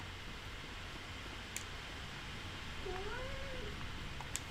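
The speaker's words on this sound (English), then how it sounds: "My cat just walked in." Pet cat giving a single faint, drawn-out meow over a constant background hiss, with a couple of small clicks nearby.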